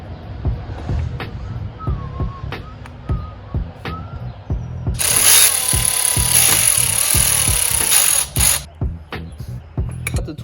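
A torque wrench ratchets in sharp repeated clicks during a car restoration on an Audi S2, close up, with a loud power-tool whir bursting in midway amid workshop clatter.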